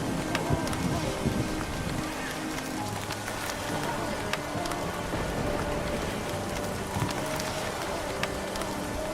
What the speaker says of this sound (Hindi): बारिश रुकने का नाम ही नहीं ले रही थी